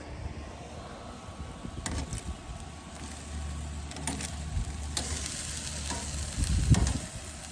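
Salmon fillet sizzling steadily in a hot pan just after being flipped, with a continuous close frying hiss and occasional scraping or stirring sounds, no speech.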